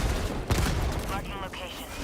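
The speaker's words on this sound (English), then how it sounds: "Just killed him with my autocannon." Autocannon fire in the video game Helldivers 2, heavy booming shots amid constant battle noise, loud and dense over a couple of seconds with no speech.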